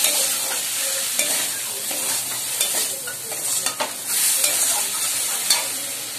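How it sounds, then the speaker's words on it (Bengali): Leafy greens fry in a wok with a continuous bright sizzle, plus occasional scrapes and clinks of stirring; there is no talking. "এবার আর একটু ভেজে নামিয়ে নেবো"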